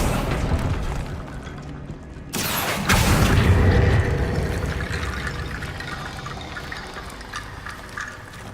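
A Confringo fire spell in Hogwarts Legacy erupts in a sudden loud blast partway through, then rumbles and crackles as it fades into steady game background noise.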